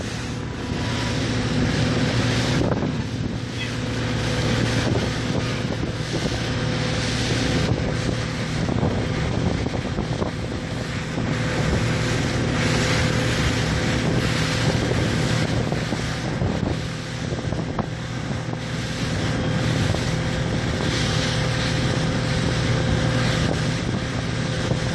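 A powerboat cruises at around 19 knots, with a steady droning engine hum under constant rushing water and heavy wind buffeting the mic throughout.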